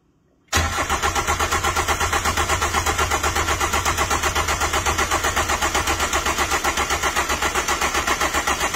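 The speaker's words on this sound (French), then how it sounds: "il faut tirer 1 minute dessus pour qu'elle démarre" A BMW E46 diesel with 136 hp, after fuel priming, cranks loudly and rhythmically from a sudden start, the starter's steady pulsing chug continuing close and unbroken for several seconds.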